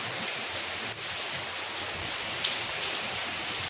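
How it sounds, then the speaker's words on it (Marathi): Steady rain falls outdoors in a village, a dense, even hiss of drops on surfaces that holds constant throughout, fairly close, with a few faint clicks and no voices. "आज परत पाऊस पडतोय."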